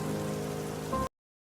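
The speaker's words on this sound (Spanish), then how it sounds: "el sonido de la lluvia" Steady rain falls in a close, even hiss with no breaks, then cuts off abruptly into silence just before the end.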